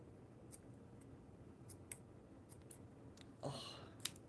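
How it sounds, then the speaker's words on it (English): Scissors snip in a quiet indoor room, a few faint, sharp clicks scattered irregularly, with one longer soft cutting swish near the end. "I need new scissors."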